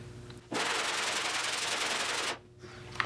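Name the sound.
sanding car body filler with 40 grit sandpaper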